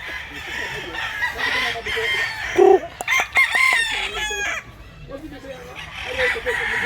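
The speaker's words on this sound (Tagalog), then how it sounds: "Indo sa nila, mga sunoy na manok ka." Roosters being carried to Masbate crow in repeated calls over steady background clucking from a flock of chickens, with a louder crow midway and some faint voices nearby.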